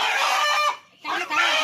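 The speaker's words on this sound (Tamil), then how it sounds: "2 வருஷம் சேவல்." A two-year-old rooster crows loudly and close by, two bursts of strained, harmonic calling split by a short silent gap.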